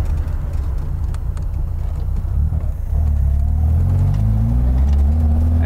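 A Toyota Starlet fitted with a TRD race engine driving uphill, a loud close engine drone from inside the car that steps up in pitch partway through as it pulls under load.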